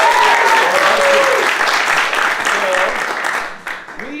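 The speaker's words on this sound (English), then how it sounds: "Big round of applause for Ilya." Loud, dense audience applause at an improv comedy show, a full crowd clapping steadily with a few whoops mixed in, then tapering off near the end.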